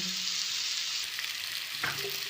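Loud, continuous sizzling of hot oil in a pan of Bengali prawn curry with potatoes, with a sudden burst of hissing and bubbling as hot water is poured in near the end.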